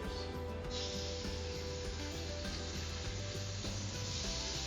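Seafood sizzling in a hot pan after a brush of seasoning, a loud, dense, steady hiss filling the space, close up, with faint scraping underneath.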